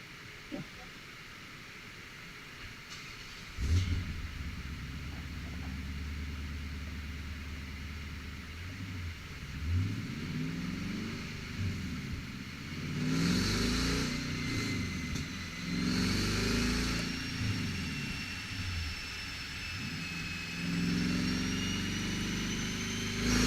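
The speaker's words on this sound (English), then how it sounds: "VK56, what is that? Out of a Nissan Titan." A Nissan VK56 V8 truck engine revs repeatedly in several rising and falling bursts, fairly close, after a stretch of steady idle, with faint voices in the background.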